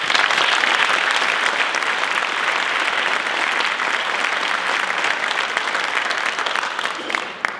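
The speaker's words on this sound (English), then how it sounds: "let's please give all of our sponsors another round of applause" Audience at a first responders valor awards ceremony applauds the event sponsors, a loud, steady wash of clapping that fills the room for several seconds without a break, then tapers slightly at the end.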